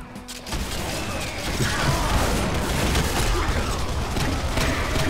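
Twin automatic shotguns blast rapidly in a cooperative Brutal Doom session on Plutonia 2, a dense, loud barrage of overlapping shots and crashes running almost unbroken for several seconds.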